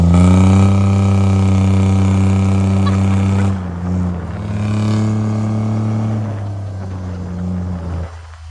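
A modified golf cart that rolls coal is pinned to full throttle on a straightaway. A loud, close engine drones with a strong steady note, then turns rougher and wavering as it keeps pulling.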